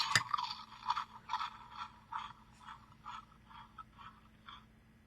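Plastic Funville Dinos Unleashed Bend & Bite Dilophosaurus toy's chomping mechanism, a quiet series of ratcheting clicks and scrapes repeating in an uneven rhythm, the first one sharper than the rest.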